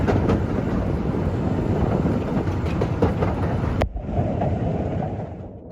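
Slate wagons of the Ffestiniog Railway gravity train roll downhill in wet weather with a steady, loud rumble and rattle of wheels on rails, buffeted by wind, the noise dropping sharply near the end.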